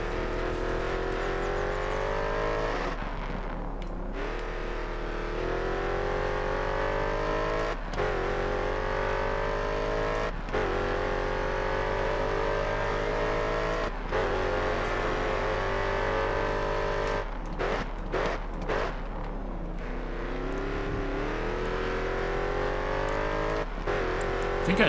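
A race car in the video game GRID Autosport drives hard around a track, its engine note climbing and dropping through gear shifts and braking, loud and continuous throughout.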